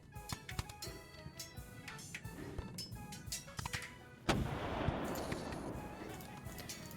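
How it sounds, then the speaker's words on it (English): Explosions play as a sound effect during a tabletop game session, distant booms and thuds, then a louder blast followed by a rumbling wash of debris-like noise. "There are more explosions."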